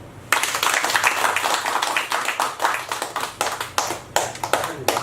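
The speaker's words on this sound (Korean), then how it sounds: "박수!" An audience applauds at a welcome for a visiting chairman at the launch of the Daejeon federation of the Korean Association of Retired Persons, with dense hand clapping starting abruptly and continuing loudly through the clip in uneven waves, with no voices.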